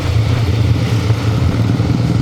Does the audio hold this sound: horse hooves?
no